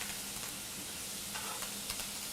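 Food searing in a hot pan with garlic during a cooking class, a steady close sizzle and crackle running throughout with small popping bursts.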